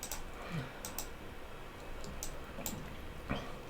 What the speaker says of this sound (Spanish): Un clic allí, otro aquí, pero no tan fuerte este